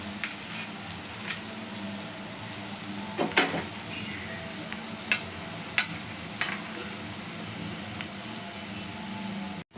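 Chana dal and urad dal sizzle in hot oil for tamarind pulihora, a steady close frying crackle with a few sharper pops and stirring clicks scattered throughout.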